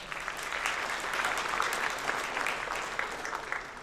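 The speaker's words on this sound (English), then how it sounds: "Let's give our Jefferson community a round of applause" An audience applauds at a Jefferson High School spring signing ceremony, with dense, steady clapping from a crowd that holds at an even level for a few seconds.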